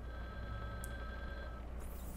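Telephone ringing in the Resident Evil: Survivor video game, a quiet steady electronic ring tone holding for about a second and a half before cutting off, with faint background ambience.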